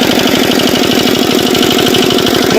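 Homemade nano tractor engine running while being driven, a loud close steady pulsing throb with a rapid even rhythm and no break, no voices.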